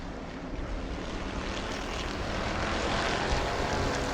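Bomber B division race cars at New Smyrna speedway roaring down into turn one; a dense, continuous engine drone that swells slightly as the cars approach, with no talk.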